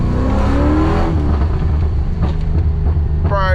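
A car fitted with a custom grind Hurricane cam accelerates hard, a loud, steady engine roar heard from inside the car with rising tones as it pulls, and a brief voice in the background.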